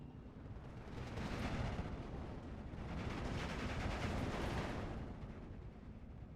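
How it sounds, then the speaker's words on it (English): Artillery and mortar fire in the WWII strategy game Steel Division 2, a dense, continuous roar of overlapping blasts and rumbling impacts that swells and holds loud for several seconds before easing slightly. "But look at all this arty just coming down."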